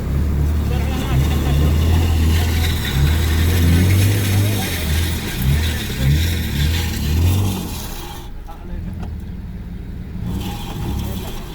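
A Lexus Sport engine drones and revs under strain while pulling a stuck Kia Mojave free in the Omani desert. The low, steady roar runs throughout, with people talking over it.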